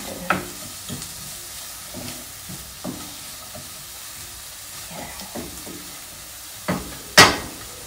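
Potatoes frying in oil in a pan for kaldereta give a low sizzling hiss, broken by occasional stirring clinks and scrapes and a sharper clatter of metal near the end, close by with no talking.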